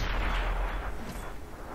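A small tank cannon fires in the World of Tanks video game at long range, a single boomy shot with a broad low rumble that decays over about a second and a half, with no voices.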